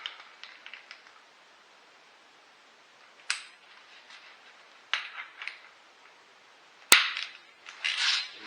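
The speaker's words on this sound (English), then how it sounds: "Torque until you hear the click." Torque wrench clicking while tightening the front brake pad bolts on a 2016 Toyota RAV4, worked in a star pattern: faint scattered ticks and clicks, with a few sharper louder snaps near the end, close by and without talk.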